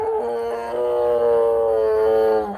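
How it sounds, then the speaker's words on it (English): A dog howls in one long, wavering, tonal cry that rises slightly and holds, loud and close, then cuts off abruptly, with no voices over it. "Diego, is he barking in your ears?"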